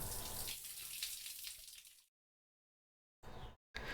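Bath water runs steadily from a tap in the Remember 11 game for about two seconds, then cuts to silence before two brief bursts of running water return.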